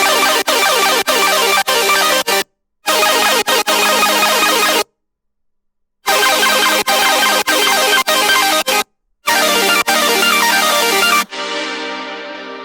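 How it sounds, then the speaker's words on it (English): Super saw synth from an EDM remix, a loud, bright buzzing chord stabbed in rhythmic bursts with a few short silent gaps, ending in a fading sustained tail. "Mixing that with the super saws"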